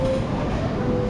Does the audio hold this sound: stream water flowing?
no